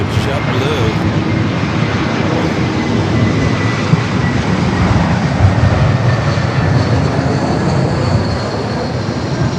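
A JetBlue airliner at Los Angeles International Airport roars loudly and continuously at close range, a broad rumbling engine noise that persists throughout, with faint talk underneath at times.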